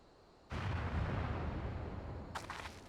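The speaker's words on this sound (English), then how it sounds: "Cannon fire! Where did it come from?" Cannon fire booms in the video game Final Fantasy XIV, a sudden loud blast followed by a sustained roaring rumble and a second crackling impact.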